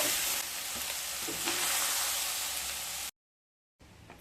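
Soybean chunks fry in a pan with a dense, hissing sizzle heard close and constant, briefly dropping to silence before the frying resumes; no speech.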